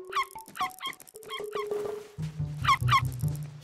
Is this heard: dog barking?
yes